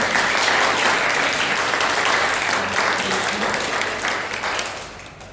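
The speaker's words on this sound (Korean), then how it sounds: "우리 큰 박수로 환영하겠습니다" Sustained applause from a church congregation welcoming visiting family members during a Sunday service, steady and full throughout before tapering off slightly at the end, with no talk over it.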